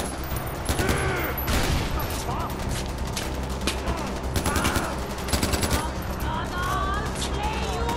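Rapid automatic gunfire in the first-person shooter Far Cry 4, dense bursts of shots rattling continuously with heavy low rumble, loud and close, while people talk over the action.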